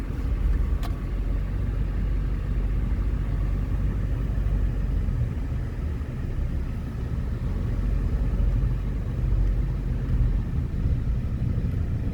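A car drives along a waterfront road in San Fernando, with a steady low engine and road rumble that stays close and continuous throughout, no talk.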